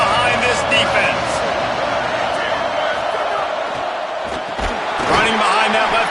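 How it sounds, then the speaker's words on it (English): A college football stadium crowd at Ole Miss roars for the defense on a big third down, a dense sustained cheer swelling toward the end, heard under a commentator's voice. "Big third down as the crowd gets behind this defense."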